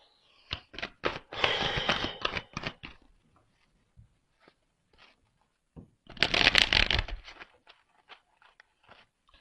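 Tarot cards shuffled close up, with a long riffle and ruffle burst, scattered soft card taps and slides, then a second loud shuffle burst, with no speech.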